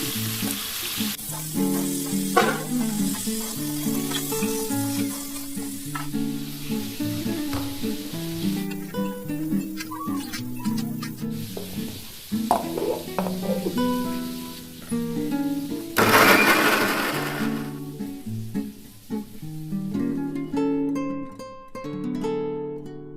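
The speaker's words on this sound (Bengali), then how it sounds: "এবার ছেড়ে দিলাম আলুগুলোকে একটু ভালো করে ভেজে নেব" Potatoes frying in a pan for a pointed gourd and prawn dish, with a steady loud sizzle broken by clinks and scraping of a utensil against the pan, plus a brief burst of sharper hissing partway through.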